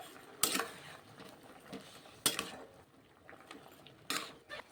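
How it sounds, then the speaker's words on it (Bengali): A metal utensil scrapes and clinks against a pot of banana stem and rohu fish curry with turmeric in three separate strokes, with a faint background hiss between them. "দিয়ে ভালো করে একটু আমি নাড়িয়ে দিচ্ছি"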